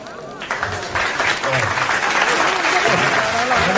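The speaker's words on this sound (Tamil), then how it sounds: "கைத்தட்டுங்க." Applause at a lifetime achievement award ceremony held by a comedy association in Mumbai, a loud, dense burst of clapping that swells quickly and holds steady, with some crowd voices mixed underneath.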